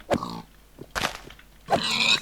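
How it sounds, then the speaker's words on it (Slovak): Minecraft pigs grunt in three short separate bursts spread over a couple of seconds, fairly close and clear, with no talking. "Tu čo robia prasiatka?"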